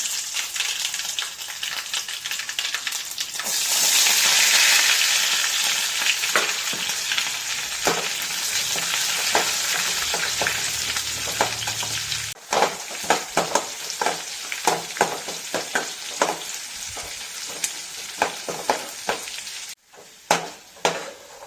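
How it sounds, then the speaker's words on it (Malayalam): Small seeds pop and crackle sharply in hot oil, following a loud hissing burst, with scattered spits and stirring scrapes nearby. "കടുക് പൊട്ടി തുടങ്ങിയിട്ടുണ്ട്. ഈ ജീരകം കൂടി ഇടുകയാണ്."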